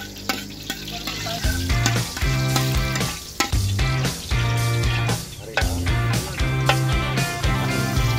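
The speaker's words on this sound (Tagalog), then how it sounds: "Gigisaw tayo ng bawang." Garlic sautés in a pan as the first step of cooking pork-innard bopis, a loud, steady sizzle and crackle that runs throughout with brief stirring clatters and rhythmic, music-like tones underneath.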